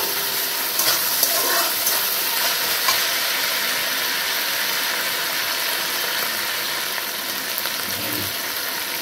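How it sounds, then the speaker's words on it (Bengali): Ginger paste sizzles steadily in a hot pan while being stirred, with scraping spoon clatters over a constant, fairly loud frying hiss. "আদাটাকে একটুখানি ভালো করে কষিয়ে ভেজে নিচ্ছি।"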